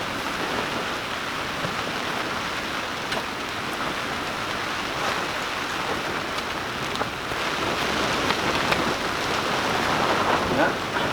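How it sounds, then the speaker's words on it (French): Steady rain falls on a garden polytunnel over a potato plot in Normandy, a dense, even patter of drops that holds at moderate loudness throughout with no voices. "Mais bon, il pleut, il faut de l'eau"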